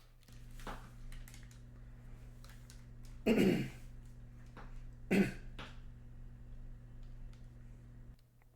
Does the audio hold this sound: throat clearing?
yes